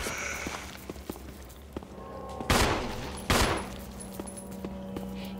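Gunfire in the survival horror game Resident Evil HD Remaster, with two loud sharp shots about a second apart standing out over a steady game ambience and footstep-like taps.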